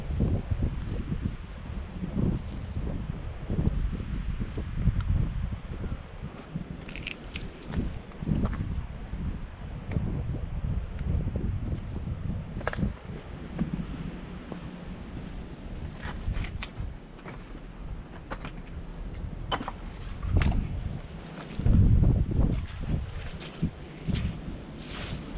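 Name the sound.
wind blowing at a cemetery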